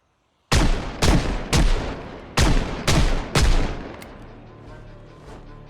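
Six sharp, loud gunshots crack out at uneven intervals in Project Zomboid, each with a booming tail, followed by fading echoes and faint background noise.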